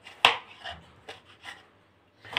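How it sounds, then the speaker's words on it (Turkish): A knife chops vegetables for bulgur pilaf on a cutting board in several separate, uneven strokes, one sharp and loud, the rest softer, with quiet gaps between. "Şöyle doğruyorum görmüş olduğunuz gibi."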